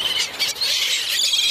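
Birds crowding a Florida beach give shrill, overlapping squeals and calls, steady and fairly close for the whole brief moment, with no talking.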